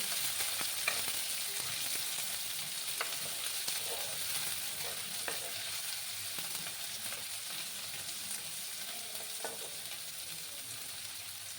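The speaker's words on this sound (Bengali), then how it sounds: "দিয়ে পেঁয়াজগুলোকে একটু লাল লাল করে ভাজতে হবে।" Finely chopped onions fry in a pan for a Sylheti bean dish, giving a steady, close sizzling hiss with a few faint stirring clicks and no talking.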